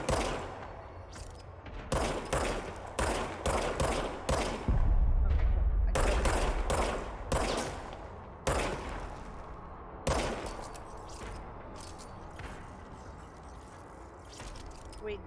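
Service weapon gunfire in the video game Control, with loud rapid bursts of shots in several volleys, each one cut off sharply, and a sustained heavier burst partway through.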